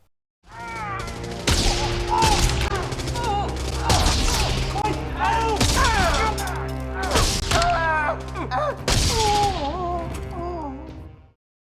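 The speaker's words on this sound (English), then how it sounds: "the last scene we're going to look at is where the Terminator shoots the SWAT team" Gunfire from the Terminator 2 scene where the Terminator shoots a SWAT team: dense film soundtrack with repeated heavy shots, impacts and crashes layered over music throughout, loud and continuous.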